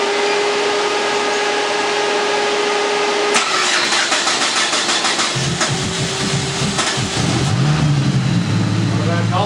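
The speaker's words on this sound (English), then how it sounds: "Not a bad cold start. Especially on ethanol." A car freshly fitted with a new turbo cold-starts on ethanol after sitting a week: a cranking burst, then the engine catches and settles into a loud, throaty idle that runs steadily to the end, with voices talking over it.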